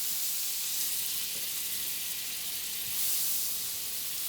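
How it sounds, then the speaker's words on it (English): Two tablespoons of butter melt in a pan with browned onions, giving a steady, close, bright sizzle and hiss that holds evenly throughout with no talk. "add my 2 tablespoons of butter. And let that be cooking down"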